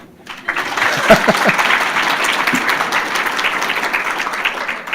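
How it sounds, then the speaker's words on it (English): An audience at a Phi Theta Kappa honor society induction ceremony claps steadily, a dense sustained wash of applause from a sizable crowd with a few sharper close claps near the start. "let's give everyone a hand clap again"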